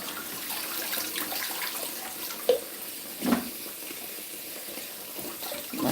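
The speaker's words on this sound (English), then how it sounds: "I need the strainer for washing the mints" Tap water runs steadily over fresh mint in a metal strainer at a kitchen sink, a close hiss with a few soft splashes and knocks and no talking.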